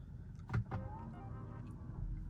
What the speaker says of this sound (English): the mirrors automatically fold down to help me see any kind of curb that I'm about to encounter